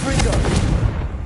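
The Confringo spell in Hogwarts Legacy bursts as a loud, close, booming blast with rumbling impacts and crackle packed into about a second, and voices blend into the noise.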